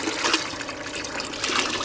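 A jug of water and coolant mixture is poured back into the heater core of a 2001 GMC truck during a flush, a short, fairly soft liquid splash and trickle with no voices.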